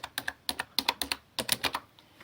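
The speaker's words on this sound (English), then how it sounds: "I'm going to type happy, and I'm going to type birthday" Fingers type words on a computer keyboard in quick bursts of crisp, close clicks, with brief pauses between groups of keystrokes and no talking.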